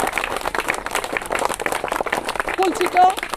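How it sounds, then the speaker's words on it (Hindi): People at a school farewell ceremony clap in a dense, continuous patter while voices talk loudly over it. "ताली बजा दो"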